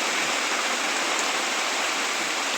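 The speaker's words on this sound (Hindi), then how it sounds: "देखिए कितना जो है पानी बरस रहा है।" Heavy monsoon rain pours steadily and loudly on a dark, overcast day in a village in July, a dense continuous hiss with no voices.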